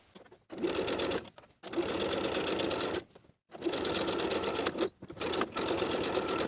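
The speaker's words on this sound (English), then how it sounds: "the pattern calls for another set of stitching around the entire armhole" Sewing machine stitching around a coat sleeve armhole, loud close bursts of rapid whirring in four runs separated by short pauses.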